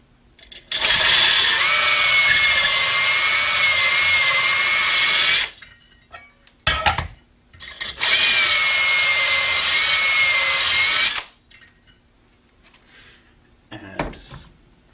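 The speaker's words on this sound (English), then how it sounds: "If required, hone out the cathode to clear out any debris." A power tool whirs loudly in two sustained runs of roughly five and three seconds, honing debris out of the cathode of a 2-inch pressure reaction chamber, with brief clanks and handling noises in the gaps.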